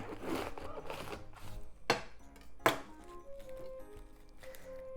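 A knife chops through cabbage on a board in a kitchen, with a few sharp, distinct cuts spaced about a second apart amid quieter handling sounds.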